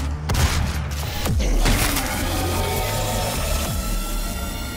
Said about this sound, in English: that was the wankiest shot ever